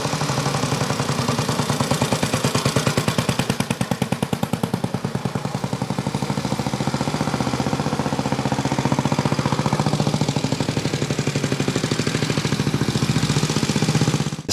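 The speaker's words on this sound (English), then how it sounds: "So this is the Sunbeam engine. It's a 492cc side valve." A 1927 Sunbeam Model 6 motorcycle's 492cc side-valve single engine runs steadily close by, a loud, rapid, even clattering beat that holds for the whole stretch with a slight swell midway and no voices.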